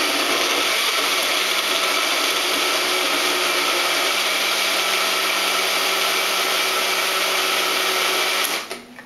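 A NutriVerus blender whirs through a blueberry smoothie, a loud, close, steady motor drone with a slight wavering pitch that runs without pause before cutting off abruptly at the end.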